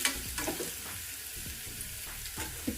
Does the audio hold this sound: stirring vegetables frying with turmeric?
yes